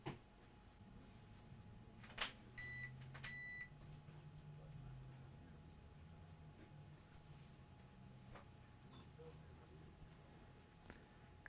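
A multimeter in continuity mode gives two short high beeps while testing filters on a liquid-damaged Nintendo Switch, faint against a quiet room with soft handling clicks.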